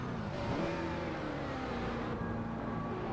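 A NASCAR race car engine in NASCAR Racing 2003 hums at a steady 3,500 rpm in second gear, a constant close drone with a slight shift in pitch partway through and no voices.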